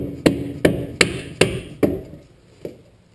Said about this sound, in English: Just a little tap, tap-a-roo.